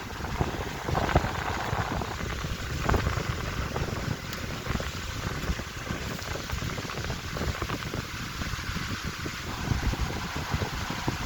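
An antique Robbins and Myers 1153 six-blade table fan runs on high, making a steady, close rushing whoosh like heavy rain, with a faint high motor whine and no talk.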